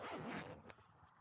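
A zip on a Robens Starlight 2 lightweight backpacking tent is pulled open or shut in one quick close rasping run, followed by a short softer tug, with no talking.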